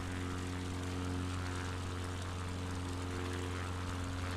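Steady propeller airplane engine drone during a slow maximum-rate climb in Microsoft Flight Simulator 2020, a constant loud hum with strong low tonal bands, unbroken from start to finish.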